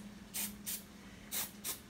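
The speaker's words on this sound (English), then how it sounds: "So I'm using canola nonstick spray." Canola nonstick cooking spray squirted into egg cups in a kitchen: four short, sharp hissing bursts in two pairs, close and fairly loud over a quiet low hum.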